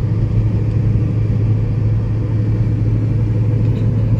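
A car climbs a hill with its engine giving a steady, close, low rumble and a constant mid-pitched drone, with no talking.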